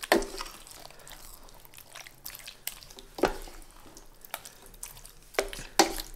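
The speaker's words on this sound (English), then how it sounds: "So we're going to mix this all in here." Tomato pulp being stirred into a keto beef enchilada casserole mixture in a pan, with soft wet scraping and sloshing strokes and a few sharper utensil knocks against the pot, close and fairly quiet.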